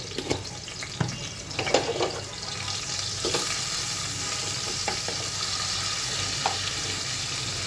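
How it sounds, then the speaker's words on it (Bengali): Chopped onion sizzles in hot oil for a fish curry, a steady close frying hiss broken by sharp clicks and scrapes of stirring, with no talking. "পেঁয়াজটা ভাজা করতে একটু এক দুই মিনিট সময় লাগবে"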